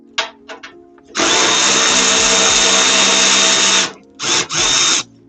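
A power drill runs during servicing of a Nissan Navara, with a few short bursts, then one long loud whir of several seconds, followed by two more brief runs.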